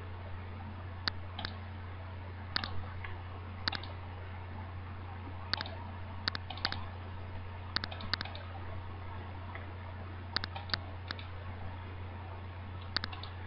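Sharp computer mouse clicks while copying and pasting Minecraft mod files, a dozen or so quiet isolated taps and double-clicks at irregular intervals over a steady low fan hum.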